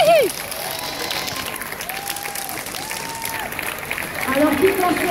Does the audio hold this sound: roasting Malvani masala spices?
no